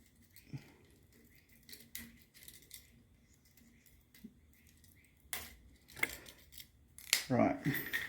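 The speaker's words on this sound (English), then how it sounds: "Let's get this zip tie off." A zip tie is snipped off a wristblade/hidden blade build, with a few sharp scissor-like clicks and snaps spaced apart amid light handling rustles, close and quiet.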